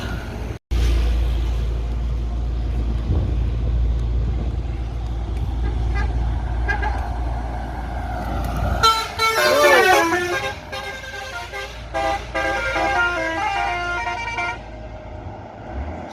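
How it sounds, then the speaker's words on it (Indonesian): A West Sumatra intercity bus arriving from outside the region rumbles close by with a low steady engine drone, then blasts a long melodic multi-tone horn that sweeps and repeats over several seconds. "Ini bus Sumbar kedua yang masuk Ranah Minang dari perantauan."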